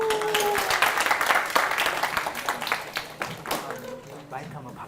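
An audience applauds after a lecture on whales and the sea, with sustained clapping that swells and then tapers off while a host speaks over it.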